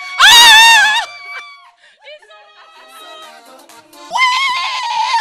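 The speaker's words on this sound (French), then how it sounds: "On a eu des cris encore et encore." Team members on a French TV midday show scream and shout with joy, with a loud, high burst, then scattered laughter and voices, then another loud shrieking outburst.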